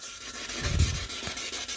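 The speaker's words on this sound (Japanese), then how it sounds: "そしてこの耐水ペーパーに徐々に徐々に削り取ってもらうんですね。" Waterproof sandpaper rubs gently against limescale on a toilet bowl, producing soft, close scraping strokes that swell briefly in the middle without any voices.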